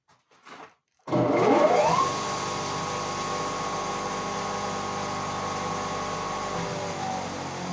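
The electric motor of a 500 kg feed mixer starts with a rising whine, then runs steadily with a loud, even hum and harmonic drone, close by and continuous.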